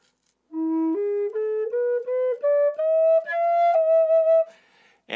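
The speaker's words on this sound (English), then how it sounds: "I was playing a scale that's a little bit tricky for me to play on the Native American style flute" A Native American style flute plays the gypsy scale, a clear breathy solo rising step by step through about nine distinct notes, each held briefly, with no voices.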